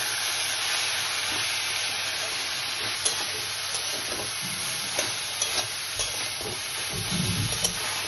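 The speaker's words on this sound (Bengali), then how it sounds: "এবারে ভালো করে নাড়বো" Radish greens frying in a pan with a steady sizzle, stirred with a utensil that gives occasional scraping clicks and light clatter, close and continuous.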